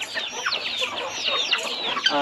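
Chickens on a farm in the rainy season cluck and chatter continuously, many birds close together producing busy overlapping calls at a steady moderate level.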